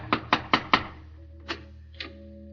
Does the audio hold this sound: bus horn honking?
no